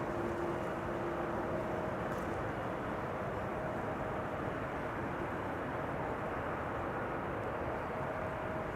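A 21-year-old Boeing 777-200 airliner arriving at Amsterdam Schiphol on runway 06, a steady, loud broadband engine roar that holds throughout with a faint tonal whine, no voices.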